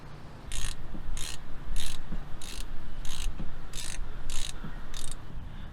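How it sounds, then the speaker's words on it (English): A ratchet tightens front differential cover bolts on a 4x4, clicking in about nine even bursts of rapid pawl ticks with brief pauses between, close up and with no voices. "let's finish up the diff bolts here. Diff cover bolts."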